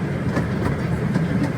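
A zoo's miniature train ride rolls along its rails with a steady, continuous rumble and faint rhythmic clatter, heard up close from aboard the cars.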